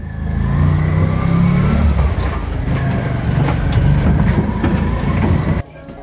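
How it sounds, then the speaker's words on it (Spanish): A small motorcycle taxi engine drones loudly and continuously, rising and falling as it accelerates on the road to Santa Fe de Antioquia, Colombia, then cuts off sharply near the end. "El regreso hacia Santa Fe de Antioquia fue en moto ratón."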